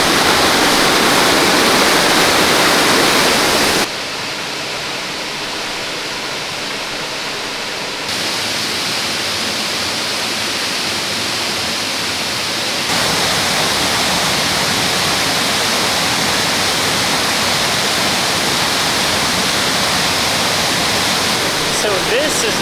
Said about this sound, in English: So this is the main waterfall.